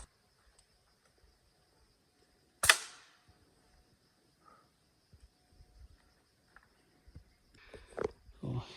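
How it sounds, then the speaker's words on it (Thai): A single sharp gunshot cracks out while hunting small birds in a forest after a fire, followed by quiet with faint rustles and clicks and later some low voices. "ยิงนกตัวเล็กๆตรงนั้นนะ"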